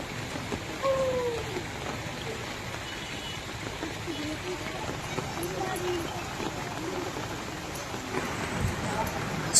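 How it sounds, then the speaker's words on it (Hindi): The first monsoon rain of Sawan falls in the town of Indri, a steady, even hiss of rainfall that continues throughout, with voices faintly audible in the background. "सावन की सबसे पहली बरसात आज ही पड़ी"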